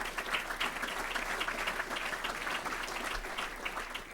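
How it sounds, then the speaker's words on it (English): A conference audience applauds an executive director for pensions at an annual investment manager conference; dense, steady clapping from many hands fills the room for several seconds without a break and with no voices. "I want a round of applause for Susanna."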